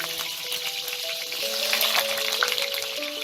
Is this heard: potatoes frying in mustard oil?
yes